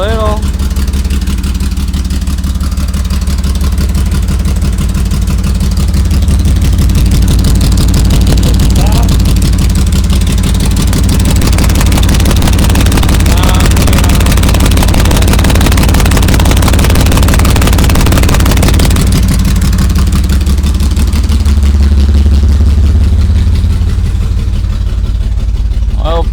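A 1973 Porsche 911T with a 2.4L engine, smoking a little and showing low oil pressure, runs loud and steady with a continuous low drone that barely changes throughout.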